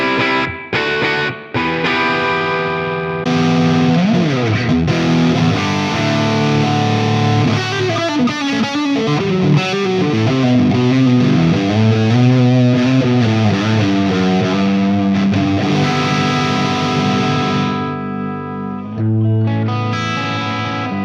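An electric guitar with humbucker pickups rings out through a ToneX One pedal, loud, distorted chords and sustained notes with rich harmonics, played alone with brief gaps between phrases.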